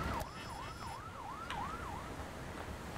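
An ambulance siren wails from the video game Fire Commander in a repeating up-and-down yelp, fairly faint over quiet background noise, then fades out partway through.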